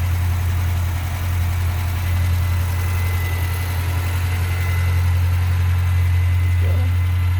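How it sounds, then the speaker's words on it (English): A 1977 MG MGB convertible engine idles steadily with a smooth, low hum, close and continuous throughout, hood open. "car's running nice. Idling very nice and smooth."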